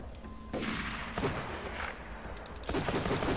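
Revolver shots from Borderlands 2, a few loud bursts of gunfire close by with short gaps between them and no talk.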